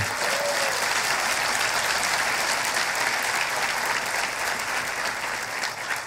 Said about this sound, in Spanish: Así que démosle un aplauso al Espíritu Santo hoy.